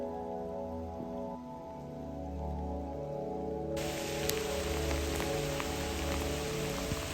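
Steady rain shower pours down in a mountain valley around 3000 metres near Manali, India, a continuous broadband hiss of drops on surfaces that thickens and brightens midway through, with no talk.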